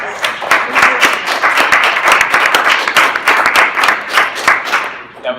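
Loud, close applause after a student presentation on Boston gentrification, a room of hands clapping in a busy steady rhythm before it tapers off at the end, with a murmur of voices mixed in.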